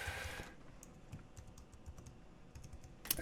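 Quiet clicking of keys as someone types on a computer keyboard, a quick irregular run of taps up close.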